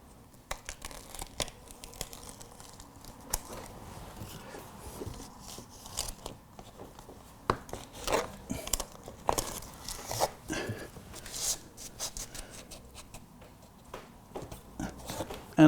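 Backing tape peeled off insulation tape during a home retrofit, a series of close, crackly tearing and crinkling rips in irregular bursts, with quieter handling noises between them.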